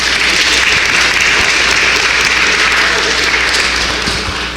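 A large convention audience gives a loud, sustained round of applause in Washington, D.C., a dense steady wash of clapping that holds throughout and eases only slightly at the end.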